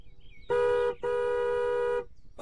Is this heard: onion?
no